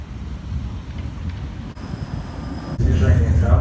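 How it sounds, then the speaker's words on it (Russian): A small park tram running in Ostankino park rolls past with a steady low rumble and wind buffeting, growing louder near the end as it moves closer. "Вот такие трамвайчики."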